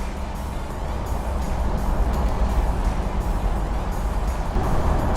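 A 1987 Bentley Continental Drophead rolls over street bumps, heard as a steady, moderately loud broadband road and cabin rumble with no distinct knocks or thumps, continuous throughout.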